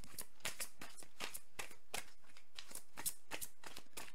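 A deck of tarot cards is reshuffled by hand, a steady run of crisp riffling and sliding bursts repeating at a quick rhythm, close and clear with no talking over it.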